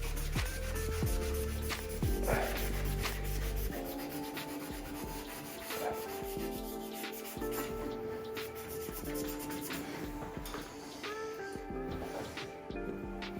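A Scotch-Brite pad scrubbing a go-kart chassis around the fuel tank area, a continuous close rubbing and scouring with uneven strokes and some clatter, no talking.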